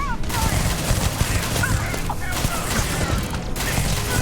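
Gun firing in the space game Starfield: dense, continuous bursts of loud rapid shots with a busy, clattering texture, broken by a few short gaps.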